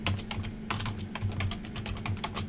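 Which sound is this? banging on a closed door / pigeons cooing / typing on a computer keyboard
typing on a computer keyboard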